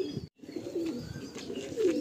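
Pigeons in a loft coo in soft, throaty bursts, close by, with a brief pause near the start before the cooing resumes steadily.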